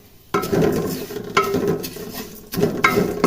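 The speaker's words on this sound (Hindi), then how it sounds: "सेविया को अच्छा भून लेते हैं इसमें" Vermicelli roasting in a pan with cardamom and cloves sizzles close up, with repeated scraping stirs and clinks of a utensil against the pan in uneven bursts.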